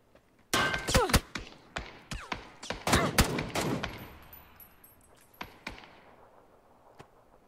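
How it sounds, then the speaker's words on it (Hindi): Gunfire is exchanged in the video game PUBG: loud, close bursts of rapid shots and single cracks, tapering into sparser distant shots and fading echoes. "ये जवाबी फायरिंग मजा आएगा देख के"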